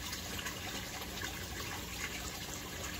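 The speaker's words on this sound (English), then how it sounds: "It's about ready to initiate again, the siphon." An aquaponics U-siphon starts up and water gushes out in a steady, fairly quiet rush that fills the whole stretch with no pauses.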